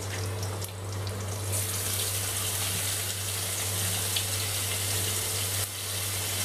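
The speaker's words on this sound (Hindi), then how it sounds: "अभी ऑनियन को मुझे फ्राई करना है" Chopped onion frying with bay leaves in a home kitchen pan, giving a steady, continuous sizzle and hiss throughout with a low constant hum beneath.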